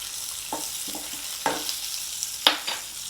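Asafoetida goes into hot oil for a tempering for curd rasam, giving a soft, continuous sizzle with a few quick scraping stirs rising above it, close and without speech.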